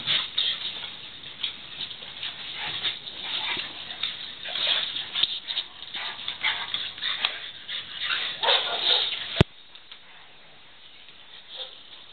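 Small dogs in a play fight, scuffling and pattering with yips, whimpers and short barks throughout, close and busy, then abruptly quieter near the end.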